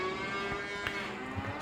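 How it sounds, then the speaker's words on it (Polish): Cattle low inside a barn in Farming Simulator 25, a brief, soft moo or two heard at a modest distance over steady game ambience, with no one talking. "Ile tych krów tu mamy w tej oborze?"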